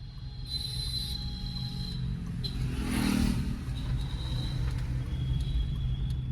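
A car with a manual gearbox creeping off in first gear as the clutch is slowly let out without throttle, a low steady engine rumble rising briefly midway, with faint high tones and background road noise.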